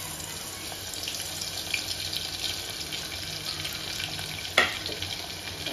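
Hot oil frying in a pan while a ginger-garlic chicken dish is being prepared, a steady broadband sizzle and crackle running throughout with a sharp clank of a utensil near the end; no talking.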